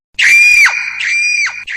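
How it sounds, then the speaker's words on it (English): A single loud, close human scream cries out in a few sustained shrieking bursts, with sharp rising and falling pitch and no other sound around it. "He heard a loud scream"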